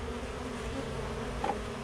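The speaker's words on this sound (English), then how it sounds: "these bees seem pretty gentle" Honey bees buzz during a hive removal, a faint, steady low drone of many insects with no voices and a brief slight swell near the end.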